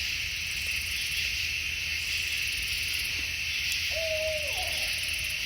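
One low hoot from an owl in a Midwest forest sounds near the end, faint against a steady, dense chorus of crickets and insects.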